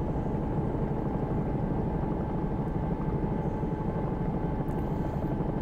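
A steady, continuous rotor drone from a Bell 222 helicopter flying as a London air ambulance in the X-Plane 11 flight simulator. It holds an even, moderately loud level throughout with no talk.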